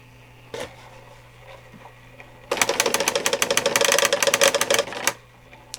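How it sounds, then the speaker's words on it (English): A vintage printer/plotter moving paper up and down gives a fast, rattling mechanical clatter for about two and a half seconds, close and fairly loud, between quiet stretches of low hum. "You can see how it moves the paper up and down."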